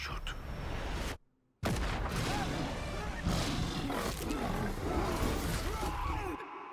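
A lion roars in the trailer for the film Kraven the Hunter, loud and rumbling, cut by a short silent gap and then surging again amid dense trailer sound.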